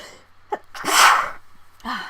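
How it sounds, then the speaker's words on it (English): A single loud sneeze, with a quick breath drawn in before it and a short exhale afterward, close up. "oh, I have to sneeze."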